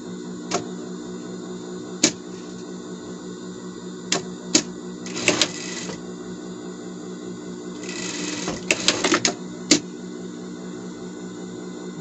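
A sewing machine stitching fabric for a padded protective bed: two short whirring bursts of stitching with scattered sharp clicks between them, close up over a steady low room hum.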